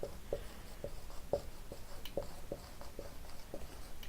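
Marker writing on a classroom board during a chemistry lesson, a quiet run of short tapping squeaks and strokes in an uneven rhythm, close and fairly faint.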